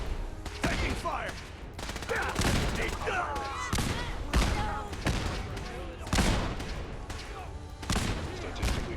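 Rapid gunfire in the video game Fallout 4 during a battle at Bunker Hill, dense overlapping shots and bursts cracking throughout, with voices shouting amid the firefight.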